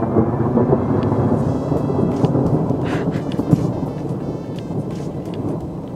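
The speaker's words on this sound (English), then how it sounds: "it's raining." Steady heavy rain pours down continuously, a dense hiss with occasional rumbles of thunder, with no voices.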